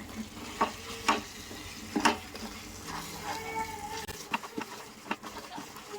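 Gongura chutney with garlic and asafoetida sizzles in oil while a spoon stirs it, giving a soft continuous frying hiss broken by irregular scraping taps against the pan, close and moderately quiet.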